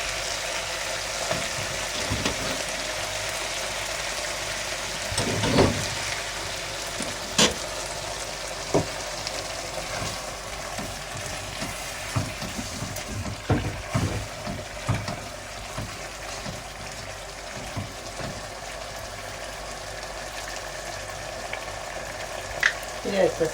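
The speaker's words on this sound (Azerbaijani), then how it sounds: "İndi ətimizi qovururuq." Meat frying in a pot for Azerbaijani bozbash, a dense continuous sizzle with occasional scraping stir clicks and pops, close and fairly loud with no voices.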